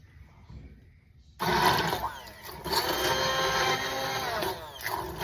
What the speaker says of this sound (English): go ahead and grab the blender and we're gonna get her blending